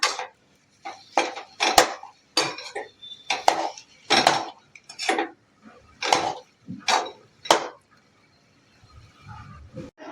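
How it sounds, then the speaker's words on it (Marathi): A spoon scrapes and clinks against a pan while potato sabzi with kasuri methi is stirred, giving a string of short, close metallic taps and scrapes in an uneven rhythm, with quiet pauses in between. "छान हलवून घेऊया"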